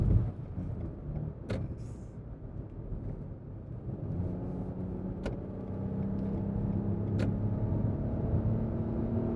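Cabin of a 2019 Lexus RX 350L 3.5 Premium seven-seater as it pulls away, with a low engine rumble rising smoothly and steadily under the road noise and a few sharp clicks, heard alone without talk.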